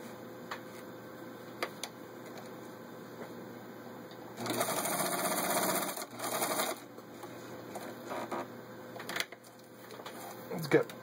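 A vintage Necchi Automatica Supernova Ultra cam sewing machine runs a zigzag stitch with a steady mechanical whir and rapid ticking, swelling into a louder, faster stretch in the middle before settling back to a quieter hum.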